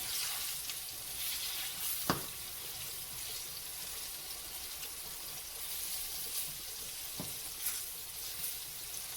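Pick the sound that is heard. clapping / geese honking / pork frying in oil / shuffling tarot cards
pork frying in oil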